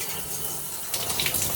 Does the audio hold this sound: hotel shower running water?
yes